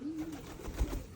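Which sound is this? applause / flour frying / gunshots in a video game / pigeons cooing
pigeons cooing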